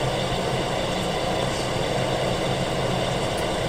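A fire engine idles in pump gear, a steady broadband engine rumble and hum holding constant and fairly loud throughout, with no voices.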